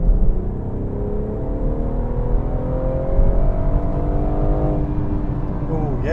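A BMW 440i accelerates as its engine revs climb in a smooth, rising tone heard from inside the car, sustained and fairly loud, with occupants talking briefly over it.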